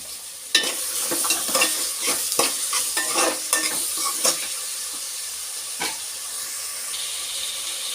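Green chillies and tomatoes frying in oil for a crab curry, a steady close sizzle broken by a run of sharp scraping stirs in the first half, then quieter sizzling with one more stir near the end.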